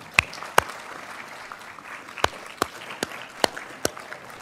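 A graduation crowd at a Texas A&M University at Galveston commencement claps in scattered sharp bursts, with a few loud nearby claps standing out over a soft, distant wash of applause.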